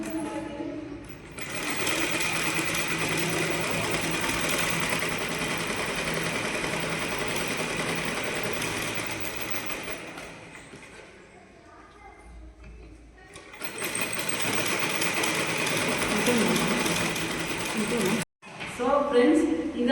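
Sewing machine stitching practice straight and curved lines, running steadily and loudly in long bursts with a brief slowdown and pause midway, a short stop near the end, and speech present alongside.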